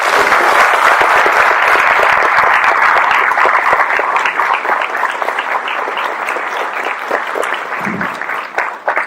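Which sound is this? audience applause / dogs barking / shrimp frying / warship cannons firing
audience applause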